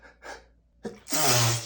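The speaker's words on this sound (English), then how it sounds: "I can't stop sneezing." A man in a rapid sneezing fit: a couple of short inhaling gasps, then one loud, close sneeze bursting out with a trailing exhale.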